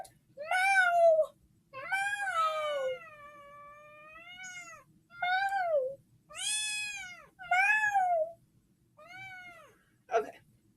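An indoor cat meows repeatedly, about seven drawn-out, loud cries spaced by short pauses, close to the listener, with a faint sharp sound at the end.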